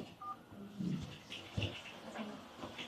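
A phone number is keyed in on a telephone keypad, a quick series of short, faint touch-tone beeps in a quiet room.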